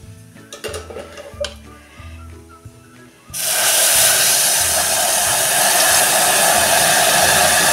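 Hot water is poured into a cooker onto roasted chana dal, starting after some soft clinks and taps and becoming a loud, steady, hissing rush that continues to the end.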